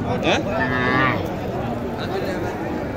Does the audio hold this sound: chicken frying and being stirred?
no